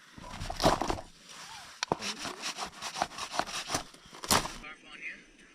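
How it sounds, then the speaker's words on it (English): A knife whittles wood into fine shavings for fire starting during solo winter camping in the Alaskan backcountry, making a run of close, rhythmic scraping strokes with short pauses between them. "I'm gonna whittle this and make some fluff and, little shavings so I can go and start the fire a lot easier."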